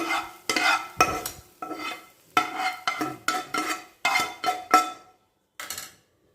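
Spoon repeatedly stirring sautéed ingredients into poha uttapam batter in a bowl, a series of close, wet scraping strokes in steady bursts that stop near the end, with no talking.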